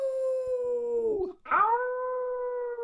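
A person imitates a coyote howl for the Arizona Coyotes hockey team: a long, sustained howl held alone, close and loud, with a pitch dip and break at the midpoint before it rises and holds steady again.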